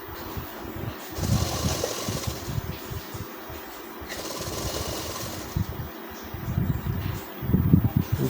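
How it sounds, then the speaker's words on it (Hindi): Sewing machine running in bursts while stitching along the edge of the back panel of a full elastic trouser, with short pauses between runs and a steady close mechanical whir. "बैक वाले पल्ले के किनारे ही सिलाई चलाएंगे"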